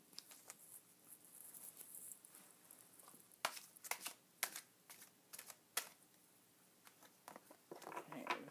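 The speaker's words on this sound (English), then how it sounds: "I'm just going to take the top three after I've shuffled them here." Soft papery riffles and flicks of a deck of oracle cards being shuffled, in irregular bursts, close by and fairly quiet.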